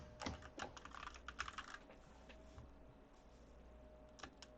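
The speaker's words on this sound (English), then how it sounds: "he's typing it out" Rapid clicking of typing on a computer keyboard, irregular bursts of keystrokes close by, fairly quiet over a low steady hum.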